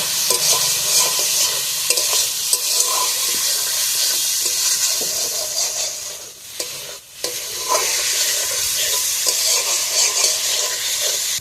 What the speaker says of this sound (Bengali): মশলার সাথে আলুটা ভালোভাবে কষে নেবো।